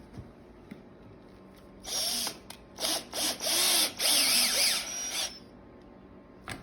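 A power drill whirs in several short bursts, revving up and down as a self-tapping screw is driven in, loud and close with quiet gaps between.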